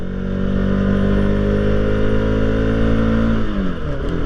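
A Bajaj Pulsar RS200 motorcycle engine pulls hard up a steep slope, a loud close drone holding steady revs before dropping sharply as a gear shifts near the end.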